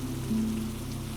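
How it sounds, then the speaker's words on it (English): Steady rain falling on a market awning, a soft even patter over a low continuous hum, with no voices. "The rain continued its patient work on the awning overhead."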